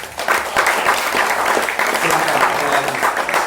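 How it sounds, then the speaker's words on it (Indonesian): Audience clapping at an Isra' Mi'raj religious gathering, a loud, lively burst of applause with uneven rhythm and brief voices sounding underneath. "tepuk tangan"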